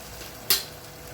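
Mushrooms go into a pan of fried onions, landing with one sharp clatter over a steady, moderate sizzle.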